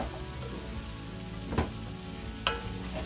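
Kielbasa, cabbage and potatoes frying together in one pot, a steady moderate sizzle with a couple of brief stirring clatters, no talking.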